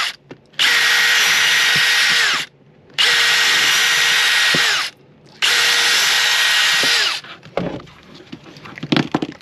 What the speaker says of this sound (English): And then I use this 1/4 inch bit and just drill them out.